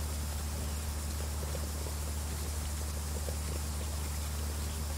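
Steady bubbling, like percolating coffee, from farm machinery in the farming video game Pure Farming 2018, a constant dense hiss-and-burble texture held evenly throughout without any talk.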